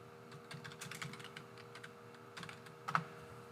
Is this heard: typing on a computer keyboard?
yes